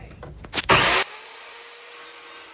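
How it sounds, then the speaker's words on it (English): A scratch-built, wall-mounted power saw cuts through a wooden dowel in one brief, loud burst that stops abruptly, leaving a faint background hum. "Now over to my DIY scratch-built wall-mounted saw to cut the dowel"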